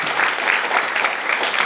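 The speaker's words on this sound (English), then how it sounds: "Round of applause." A presentation audience claps in a brief, dense round of applause, close and loud, with no voices over it.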